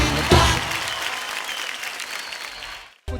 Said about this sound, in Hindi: एक बार जोरदार तालियां हो जाए दोनों के लिए.